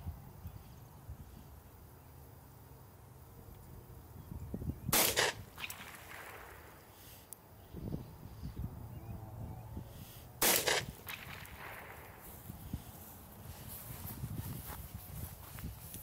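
Two sharp cracks from a Masterpiece Arms Defender 9mm pistol, several seconds apart and fired at a measured pace outdoors, with faint shuffling sounds between shots.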